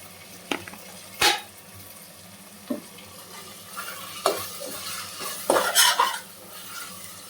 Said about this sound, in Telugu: మిక్స్ చేసుకోవాలి మంచిగా.